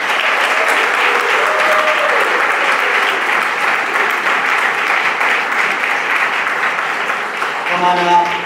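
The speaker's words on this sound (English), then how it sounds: "They definitely deserve that round of applause." Sustained applause from an audience at a graduating senior sendoff and award ceremony as students are called up on stage, steady and dense clapping throughout with a brief voice near the end.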